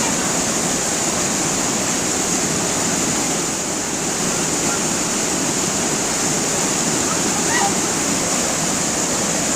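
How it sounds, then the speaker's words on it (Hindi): Strong water pours into a hill stream pool with a loud, continuous, unbroken rush that fills the whole span with no pauses. "देखो गाइस काफी तगड़ा पानी आ रहा है इधर से"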